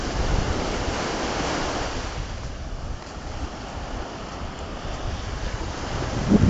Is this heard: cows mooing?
no